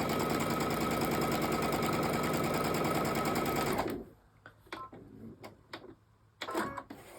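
A sewing machine chain-stitching fabric strips onto a foundation for a quilt strings block, a loud fast steady whir for about four seconds, then stopping and followed by quiet handling clicks and rustles.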